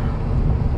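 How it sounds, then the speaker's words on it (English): Gusty wind buffets the microphone in a brief, loud low-frequency rumble, out in the open Antelope Valley. "Windy as all hell out here."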